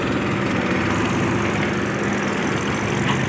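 A Mahindra 265 DI tractor engine runs steadily and loudly throughout, a continuous dense drone with rough low-end chugging and no pauses.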